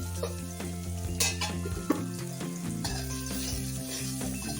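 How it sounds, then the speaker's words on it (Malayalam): Onions sautéing in a pan for beef biryani, a steady soft sizzle running throughout with occasional stirring scrapes, close and moderately loud, with a steady tonal hum in the background. "നന്നായി ഒന്ന് വഴറ്റിയെടുക്കാം"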